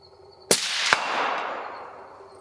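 Single suppressed shot from a Thompson Center 6.5 Creedmoor rifle at a 100-yard range: a sharp, loud crack, then a second report a moment later and a long fading rumble, with no talking.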